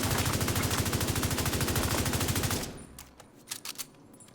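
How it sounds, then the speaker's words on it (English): Bighorn rifle in The Division 2 emptying a full magazine, a fast steady stream of loud close shots for about two and a half seconds, then stopping into quieter in-game noise with a few scattered clicks. "I'm just going to pull the right trigger until I empty the mag."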